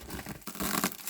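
Soft packing paper crinkling during the unboxing of a Dooney & Bourke bag, a quick burst of close, papery rustling and crumpling lasting about a second.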